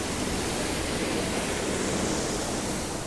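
A waterfall on the Madhyamaheshwar trek in the mountains, a loud, steady broadband rush of falling water heard close by, with no voices.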